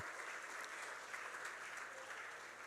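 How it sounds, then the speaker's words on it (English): Audience at a STEM camp graduation ceremony applauding steadily throughout, a soft, even wash of many hands clapping heard from a distance. "Give them a round of applause"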